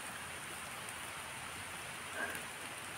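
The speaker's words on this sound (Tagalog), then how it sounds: "Basang-basa na tayo ng ulan." Rain falls steadily in an outdoor setting, making a soft continuous hiss of drops without talk.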